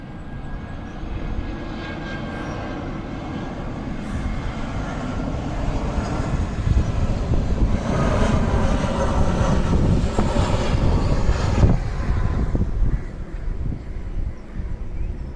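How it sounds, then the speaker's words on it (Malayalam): An airplane landing at Karippur airport, a loud sustained jet engine roar that swells and holds close by, with no talk. "ഒരു ലാൻഡിങ് ഉണ്ട്. ഇപ്പോൾ കാണിച്ചു തരാം"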